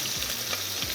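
Steak searing in hot bacon fat in a pan gives a steady, close sizzle with a continuous bright hiss and faint low clatter, with no talking.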